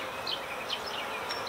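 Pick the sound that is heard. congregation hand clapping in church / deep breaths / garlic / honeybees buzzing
honeybees buzzing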